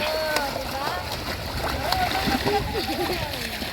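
Water splashing as family members swim, choppy irregular sloshes close by, mixed with voices of people talking and shouting.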